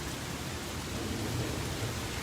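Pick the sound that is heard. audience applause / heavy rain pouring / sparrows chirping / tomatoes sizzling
heavy rain pouring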